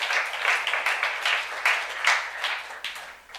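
A youth congregation at a Korean church claps as an offering of praise to God, a crowd's applause that swells and ebbs in uneven bursts over a few seconds, fairly close and loud with no talking.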